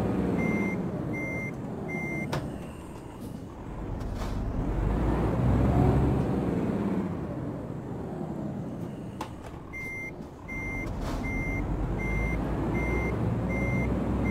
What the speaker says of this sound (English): this truck engine sounds absolutely nothing like a truck in the United States